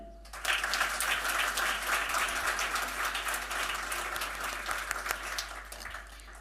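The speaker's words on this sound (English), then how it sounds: "Let us all join hands in applauding them." An audience at an annual school concert applauds the student performers, a dense sustained wash of many hands clapping that swells quickly and holds steady for several seconds over a low constant hum.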